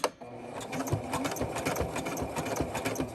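A sewing machine runs continuously, its rapid mechanical stitching whir close and steady with a brief jolt at the start, no talk over it.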